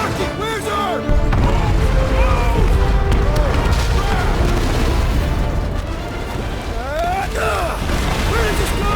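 Set charges blow in the Guardians of the Galaxy video game, a loud sustained rumble of explosions and crashing debris running throughout, with frantic voices and game music layered over it.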